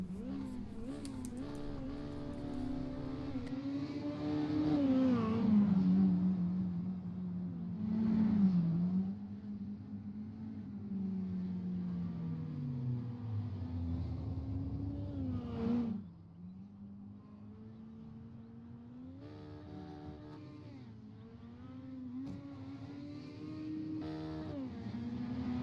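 Dirt mini stock race cars run practice laps at Cedar Lake Speedway. Engines drone and rev continuously, their pitch rising and falling as the cars accelerate and pass. The sound is loudest in the first sixteen seconds, then grows slightly quieter and more distant.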